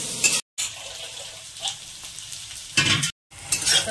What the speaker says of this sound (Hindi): अब इसको हम मसाला को अच्छे से होटल में मिक्स करते हुए भून लेंगे।